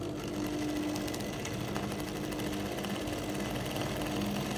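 Sewing machine joining a pocket onto a palazzo jumpsuit, giving a steady, quiet, rapid mechanical whir that runs unbroken throughout, heard at a modest distance.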